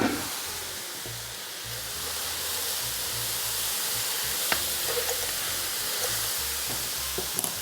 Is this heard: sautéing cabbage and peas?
yes